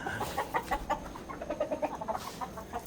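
Gamefowl chickens in a breeding pen give soft rhythmic clucks in quick bursts, close and moderately loud, over a low background hum.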